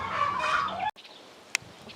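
A hen gives a short burst of clucking up close, then it stops abruptly, followed by quiet and one faint brief sound.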